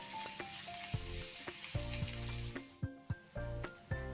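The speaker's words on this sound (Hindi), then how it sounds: "इनको हम गोल्डन होने तक फ्राई करेंगे।" Two chopped onions frying in a pan toward golden, over chillies already fried in the oil, give a soft sizzle with stirring scrapes, while steady tonal sounds run underneath.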